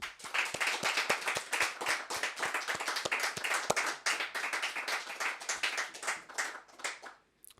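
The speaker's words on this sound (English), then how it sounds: "Big round of applause for Mr. Chris Bannister." An audience claps steadily for a live performer in a small den setting, a dense, sustained round of applause close by that swells and then thins out toward the end, with no talking over it.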